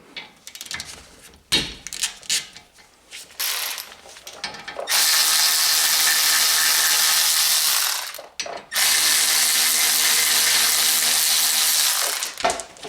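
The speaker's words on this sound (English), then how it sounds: "So you take the two caliper bolts out." Brake caliper bolts come off the front brakes of a 2018 Honda Accord: scattered ratchet clicks and clanks first, then two long, loud bursts of a power tool spinning the bolts out, split by a brief pause.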